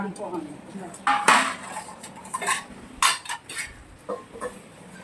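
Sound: bronze utensils clinking as they are handled

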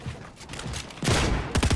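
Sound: flintlock gunshot in Fortnite video game

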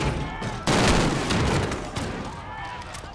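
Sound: FAMAS rifle gunfire in video game Call of Duty Modern Warfare

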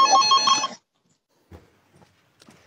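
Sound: telephone ringing

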